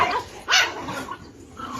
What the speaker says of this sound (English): look at this small dog